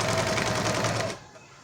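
Sewing machine stitching a patchwork curtain, running in a fast steady mechanical whir-rattle up close for about a second before stopping abruptly.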